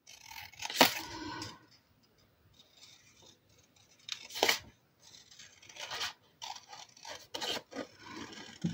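Scissors cut paper along dotted lines in a few short bursts of close, crisp snipping and rubbing, with quiet pauses between cuts and no talking.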